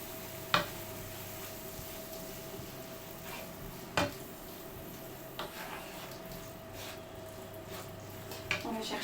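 Ham, leeks and potatoes are stirred in a pan over low heat, giving a few soft scraping clinks of a spoon against the pan over a steady faint sizzle, close and quiet, no talking.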